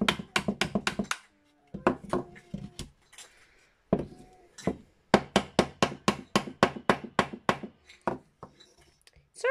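Hammer blows strike wooden stretcher bars in fast, loud bursts of close knocks, with short pauses between runs and a final flurry of sharp, evenly spaced whacks.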